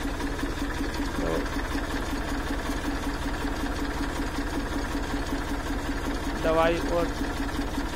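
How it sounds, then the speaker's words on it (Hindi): A tractor engine running steadily in an orange orchard during spraying, a constant mechanical drone throughout with someone speaking over it. "खेत के अंदर ट्रैक्टर भी स्टार्ट है।"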